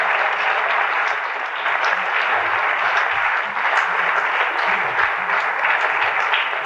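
Audience applause for a musician at Sydney Town Hall during a music hall show, a sustained broad wash of clapping from a large crowd that holds steady without talk.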